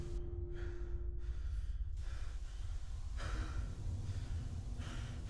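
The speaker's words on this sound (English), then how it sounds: "We're breathing." Heavy, gasping breaths from a character waking up in Fallout 4, repeated in slow uneven pulses over a low steady background hum, fairly close.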